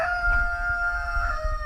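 A rooster in a hoop coop housing a backyard flock with broody hens lets out a drawn-out, tonal crow, close and clear, steady across the whole moment with no talk.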